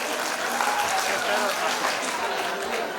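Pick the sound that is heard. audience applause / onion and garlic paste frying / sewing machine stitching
audience applause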